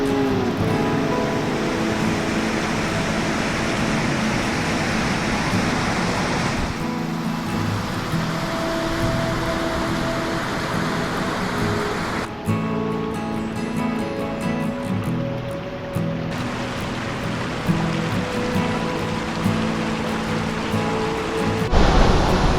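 Lapas Waterfall in Barot Valley pours in a steady, loud broadband rush of falling water that fills the whole stretch, with a brief lull near the middle and no talk over it.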